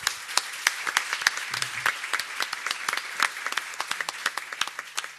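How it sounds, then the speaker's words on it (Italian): An audience at the Fondazione Zanetti book presentation of "Figli violati" applauds to welcome the author and guests: dense, steady clapping from many hands, close and loud, with sharp individual claps standing out throughout and no talk over it. "Accogliamo anche con un applauso l'autrice e i nostri ospiti."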